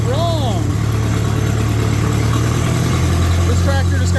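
A Case 730 LP tractor with a Case-o-matic drive idles close by, giving a steady, even low engine drone throughout. A few short voice-like chirps sit above the engine sound.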